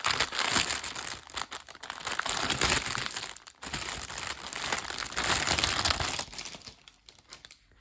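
Plastic wrapping around cross-stitch embroidery thread skeins being crinkled and torn open, close and continuous with loud rustling bursts and brief pauses.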